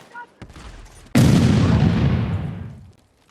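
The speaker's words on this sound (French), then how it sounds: "Je lance une grenade." A grenade explodes in the video game Battlefield 6 with a sudden loud boom, then a long rumbling tail that fades over about two seconds, after some faint scattered game noise.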